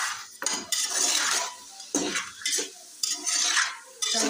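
Spoon stirring ginger paste into ghee in a cooking pot, with repeated scraping and clinking strokes against the metal in a steady rhythm, close and alone.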